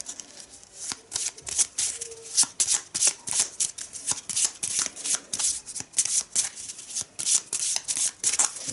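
A deck of cards for the Arkham Horror board game is shuffled repeatedly, close and crisp, with rapid riffling bursts and short pauses in a steady rhythm and no talking.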